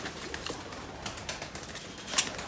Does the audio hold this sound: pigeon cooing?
yes